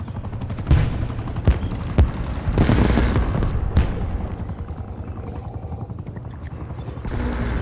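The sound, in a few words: helicopter in a video game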